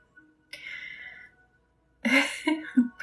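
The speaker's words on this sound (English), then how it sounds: "Coughing and burping." A person coughs and exhales roughly, then after a pause makes a series of throaty, guttural bursts like coughs or burps, close and fairly loud.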